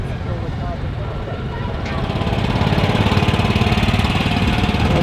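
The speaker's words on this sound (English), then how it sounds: "Little engine there, riding the back wheel." A small stationary engine runs at a steam rally, driving off a back wheel, giving a steady, continuous mechanical chugging that grows slightly louder after the first couple of seconds amid outdoor background noise.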